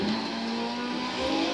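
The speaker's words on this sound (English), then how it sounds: "Funny little motor sounds." Small car engine in Forza Horizon 4 racing game, a steady thin buzzing motor drone held at close, even volume for a brief moment without talk.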